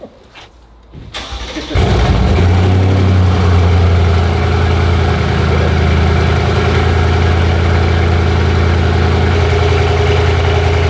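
A 911 hp Mercedes C63 tuned by COR fires up on a dyno and settles into a loud, steady idle, the deep engine rumble filling the space continuously after a brief quiet start; a voice is heard briefly.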